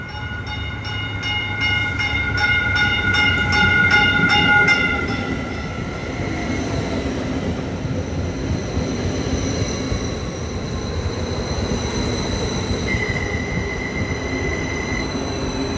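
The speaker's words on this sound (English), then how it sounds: "These are all new trains, new bodies." A new Caltrain commuter train pulls into the station, with loud steady rumbling and rolling, high whining tones, and squealing wheels. The sound is most intense during the first five seconds and then settles into a sustained hum.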